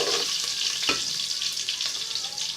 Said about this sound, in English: To fry our onions for 2 minutes before we add in the next ingredient